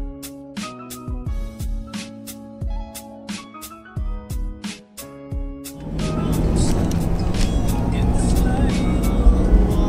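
A car drives along the road with a steady, rumbling road and engine noise that rises partway through, after a stretch of talking and tonal sound.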